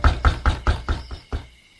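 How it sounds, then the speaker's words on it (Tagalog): Loud knocking on a door: about five heavy, evenly spaced raps followed by a sixth after a short pause, close and dry with no talking. "Maya-maya, may malakas na kumatok."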